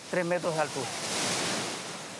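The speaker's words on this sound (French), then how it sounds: "Là, ce sont les cuves qu'on remplit d'eau et c'est ça qui produit la vague." A brief voice opens before a rushing surge of water takes over from an amusement-park wave pool, where a machine fills tanks with water and releases them to push waves up to three metres high; the broad wash continues steadily to the end.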